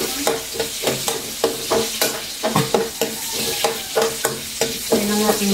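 Garlic fries in a pan for banana blossom adobo, a bright constant sizzle broken by regular, evenly spaced scrapes of stirring, loud and close with no one speaking.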